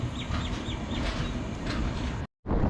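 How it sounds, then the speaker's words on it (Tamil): A Palakkad Junction superfast express train departs, giving a steady rolling rumble with faint rhythmic clanks and a brief break in the sound near the end. "ட்ரெயின் கிளம்பிடுச்சிங்க"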